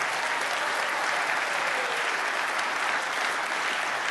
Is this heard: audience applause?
yes